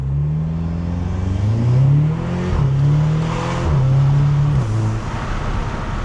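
Audi TTS with a 2.0 TFSI engine and ram air induction kit, revving up and settling in repeated rising pulls, a loud close intake roar with whooshing air, no talking.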